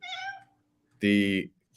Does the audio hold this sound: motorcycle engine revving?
no